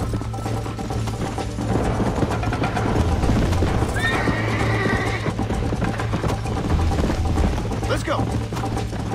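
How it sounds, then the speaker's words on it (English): Horses in Red Dead Redemption trotting with steady clip-clopping hooves and a loud whinny midway, over a dense game soundscape of music and ambient noise. "I think you chose the wrong horse, Miss McFarland."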